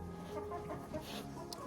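A broody hen clucks and grumbles close by, soft low throaty murmurs with a short sharper note, quiet and brief, with no talking.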